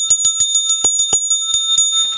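A bright bicycle-style notification bell rings in a rapid series of about a dozen sharp dings, loud and close, with a steady high ringing tone sustained underneath.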